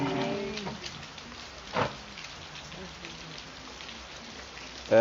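Steady rain falls outside a church during a sermon broadcast, an even hiss of drops with a few soft thuds. A voice is briefly heard at the start.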